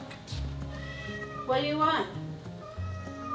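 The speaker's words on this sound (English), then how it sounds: "Please excuse the cat in the background." A house cat lets out a drawn-out, wavering meow in the background of a home pantry while a person talks over it, with a low musical hum running underneath.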